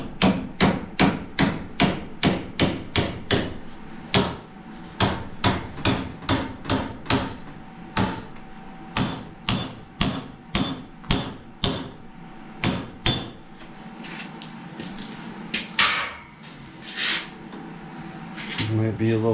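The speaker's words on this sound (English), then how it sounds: "Come over here to the vise, just put a little bit of a bend in it." Repeated sharp hammer blows strike metal stock clamped in a vise, bending it for a radiator mount during a vehicle build; a steady run of loud close impacts, then sparser hits with some workshop handling noise.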